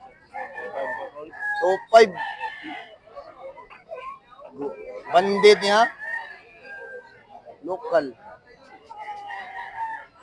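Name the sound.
roosters crowing at a chicken expo market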